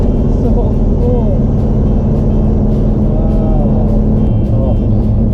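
A 1957 Chevrolet Bel Air street machine's engine rumbling loud and close at steady revs, with faint crackles and pops riding over the deep exhaust drone.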